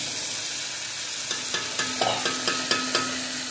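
Bitter gourd and pumpkin frying in a pan, a steady hiss of sizzling oil joined by a quick series of light spatula taps and scrapes toward the end, close and alone.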